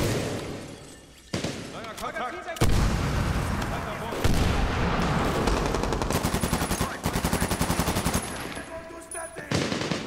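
Heavy suppressive gunfire with rapid machine-gun bursts and booming blasts, including a grenade, in the shooter Medal of Honor: Warfighter, loud and close with repeated rhythmic volleys, a player's voice speaking over it.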